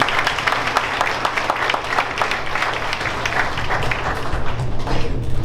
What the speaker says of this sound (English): Let's give them a big round of applause for all they do.